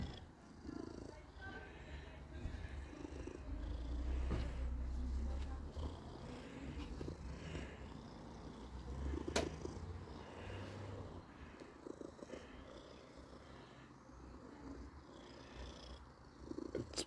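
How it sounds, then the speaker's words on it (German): Two tomcats purr steadily and closely, a low continuous rumbling that swells and eases, while someone talks softly to them in German. "Zwei ganz bedürftige Kater."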